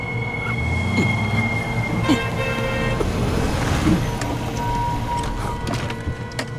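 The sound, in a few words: road traffic noise with cars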